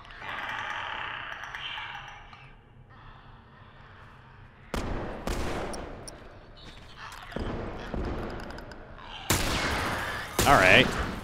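Gunfire in The Last of Us: loud bursts of shots crack out in the second half, separated by pauses, over a low game ambience.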